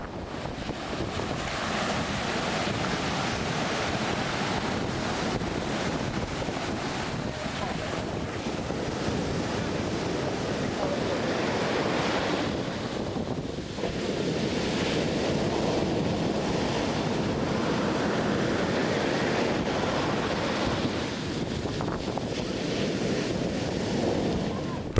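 Surf breaks and wind blows on the beach at Alue Naga in Banda Aceh, a continuous loud wash of waves and gusting wind noise across the microphone with no clear pauses.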